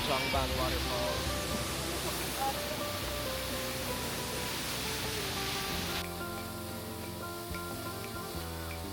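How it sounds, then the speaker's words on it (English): Jeongbang Waterfall on Jeju Island roars in a dense, steady wash of rushing water, loud and close, with a softer layer of background sound shifting near the end. "There's the Jongbang waterfalls."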